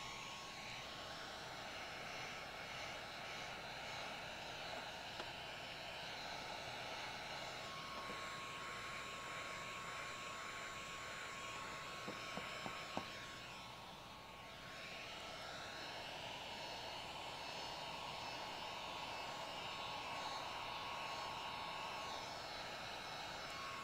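A heat gun blows a steady, loud stream of hot air onto back window tint film, a continuous rushing whine that holds nearly unchanged with a brief dip partway through, no talking.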